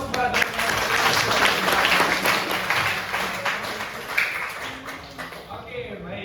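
Students in a junior high school classroom clap together, a dense burst of applause that thins and fades toward the end, with a voice speaking over it.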